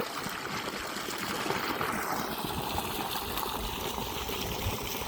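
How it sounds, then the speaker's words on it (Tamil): A 7.5HP Texmo borewell motor pump, 60 feet deep with a 3-inch outlet, drives water out in a steady, unbroken rushing stream, fairly quiet and alone. "தண்ணி நல்லா போயிட்டுருக்கு"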